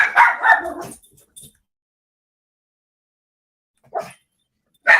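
A dog gives a few close, sharp barks and yips in quick succession, then falls silent before one more short bark near the end.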